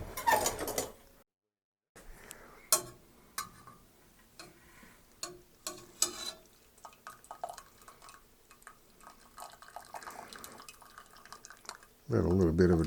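Almond wine draining from a nut bag: scattered light drips and small splashes tick irregularly at close range, quiet and sparse, with a short gap of silence and a burst of speech at the end.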